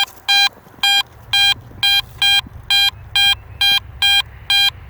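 A metal detector sweeping ground behind an old 1700s tavern gives a high, bright beeping tone signalling a coin. About a dozen evenly spaced beeps ring out clearly over faint rustling, with no talking.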